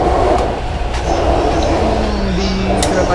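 Steady rumble of a train interior in motion in Japan heading toward Osaka, with low rolling wheel noise and faint creaks throughout, while people talk quietly in the background.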